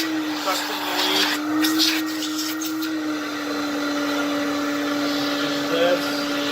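A vintage 1960 Lady Kenmore Kenkart canister vacuum cleaner runs with a steady motor whine and airy suction roar, close and fairly loud, shifting pitch slightly as the wand moves, with a person talking over it.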